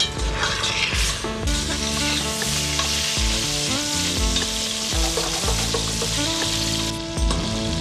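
Meat frying and reducing in a pan over high heat, a loud continuous sizzle with steady stirring and scraping throughout, close and busy with no pause.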